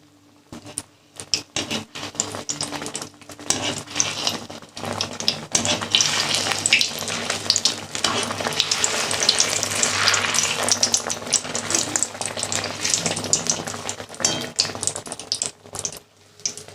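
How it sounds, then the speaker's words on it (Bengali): Malpua frying in oil on low heat makes a steady bubbling sizzle, fairly close and continuous, with some patter and uneven crackle and no voices. "আঁচটা কম দিয়ে ভাজতে হবে, নাহলে লাল হয়ে যাবে।"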